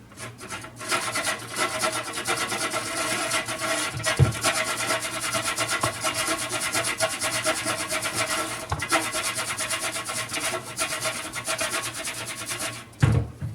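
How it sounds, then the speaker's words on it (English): Whole nutmeg grated by hand for beetroot juice with walnut milk, a continuous close raspy scraping that runs steadily with brief pauses and small knocks, with no voices. "And you can grate some nutmeg."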